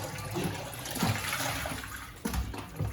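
Anchovies are rinsed in water by hand, producing close sloshing, splashing and swirling water sounds with a couple of sharper splashes near the end, no talk.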